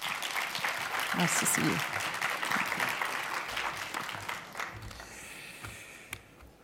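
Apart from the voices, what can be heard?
ceremony audience applause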